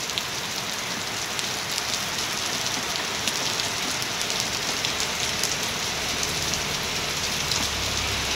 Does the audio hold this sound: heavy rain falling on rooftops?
yes